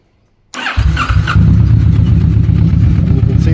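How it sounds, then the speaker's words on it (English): A Kawasaki Vulcan 650 S motorcycle, modified in a Mad Max style, cranks and fires up after silence, then settles into a loud, steady close-up idle. "You have to turn the engine on to get anything else to work, so I'll do that briefly."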